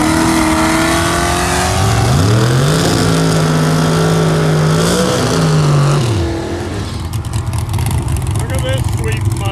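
A Ford Mustang at a Sunday drag race finals in St Thomas revs loudly nearby, its engine pitch sweeping up and down in strong harmonic tones before dropping away into a rough idle rumble, while voices talk over it.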